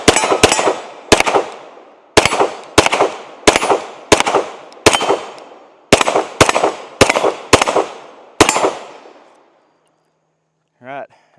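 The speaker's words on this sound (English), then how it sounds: "Let's go ahead and take a few more shots with it." A Glock 17L Gen 5 pistol fires about fourteen loud, sharp shots in an uneven rapid string, each crack ringing out briefly before the next, then falls silent with a short voice at the very end.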